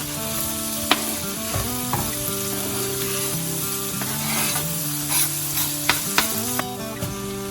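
Chopped cabbage frying in a generous amount of butter in a deep sauté pan: a dense, loud, continuous sizzle with occasional scrapes and knocks of a stirring utensil, close up, with no talking.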